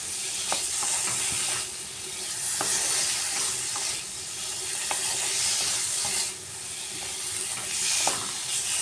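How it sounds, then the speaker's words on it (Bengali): Potatoes and spices sautéing in a pan with a continuous sizzle and hiss, broken by regular scraping strokes of a stirring utensil every second or so. "আলুর সাথে মশলাটা আবার ভালো করে এইভাবে কষিয়ে নিচ্ছি"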